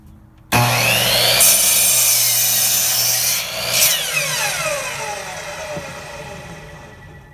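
A saw cuts through wood in steady, rasping strokes, close and fairly loud, ending as the piece comes free.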